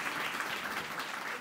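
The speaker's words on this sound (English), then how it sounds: "So can we have a massive round of applause for mom?" A brief burst of dense, even audience applause at a live grief panel event in London, with a full sound that holds steady.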